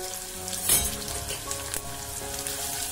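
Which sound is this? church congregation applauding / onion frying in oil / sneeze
onion frying in oil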